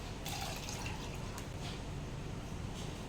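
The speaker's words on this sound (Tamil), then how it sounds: "இப்போ அதுக்கு தேவையான அளவு தண்ணி ஊற்றிக்கலாம்" Water splashing and dripping as it is poured over soaked, washed rice and moong dal for ven pongal, a short close-up liquid sound with no talk.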